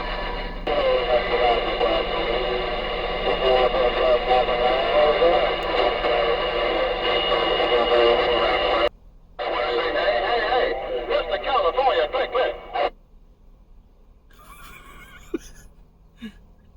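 A CB radio in a Ford crew cab hisses with loud, steady static and warbling noise, cuts out abruptly, bursts back, then falls nearly silent as the squelch closes, with a faint voice at the end.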